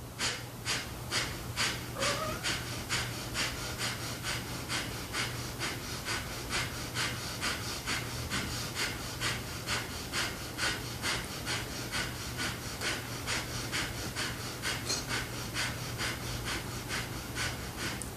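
During a power yoga breathing exercise, one person breathes rapidly and forcefully through the nose in a steady rhythm, about two quick breaths per second, close up over a low steady hum.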